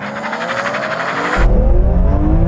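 BMW M3 launching in a drag race against an E92 M3, engine revving hard through a rising whine before a deeper, louder surge takes over as the car pulls away, close and dominant.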